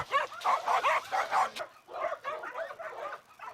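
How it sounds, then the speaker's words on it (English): Several dogs rescued from South Korean meat farms bark and whimper in quick, overlapping bursts, fairly close and loud, with a brief pause midway before the yelping resumes. "And 10 dogs, including Adele, arrive here tonight"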